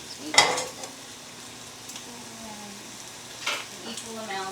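About a tablespoon of butter heating in a pan gives a faint, steady sizzle, broken by a couple of sharp utensil clinks against the metal nearby.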